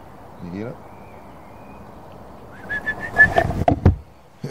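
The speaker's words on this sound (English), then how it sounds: "The birdies out. Get the window down for the birdies." Birds call at dawn outside a car in short whistled notes and chirps, faint at first and then louder as the window is lowered, with a person talking.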